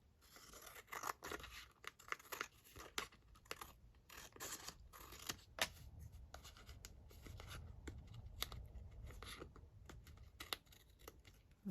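Scissors snipping and trimming an old paper envelope, a dense, close run of crisp cuts and paper rustles continuing steadily for several seconds with no voices.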